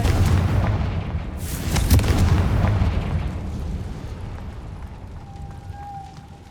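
In the video game Hogwarts Legacy, a Confringo blast spell explodes with a loud, heavy boom. A rumbling roar then slowly fades, and a faint thin tone lingers at the end.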